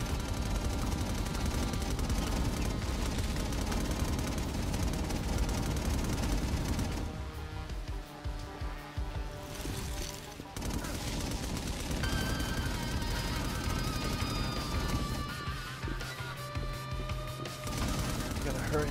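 Video game gunfire from inFAMOUS Second Son, a dense fusillade aimed at the player, loud and continuous with brief lulls, mixed with game sound effects and a voice speaking over it.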